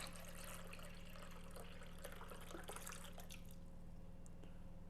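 Water trickles and drips steadily into a cooking pot for corned beef, a soft continuous pour over a low kitchen hum, gradually thinning toward the end.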